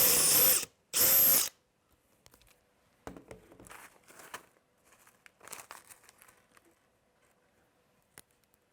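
Power drill driving screws into a vehicle bumper mount: two loud, sustained whirring bursts up close at the start, followed by quieter rattling, clinking and handling noises.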